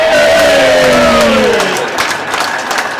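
Football crowd at a Leatherhead match roaring as Chris Kelly scores, a loud sustained cheer with rising shouts and whistles that slowly ebbs into a steady hubbub.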